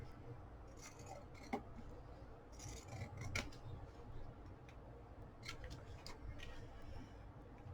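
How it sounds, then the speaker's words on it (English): Pinking shears snip through fabric and paper in a craft project, giving a run of short, close crisp cuts over faint room noise with no speech. "I'm going to trim that off all the way around the edges using the pinking shears"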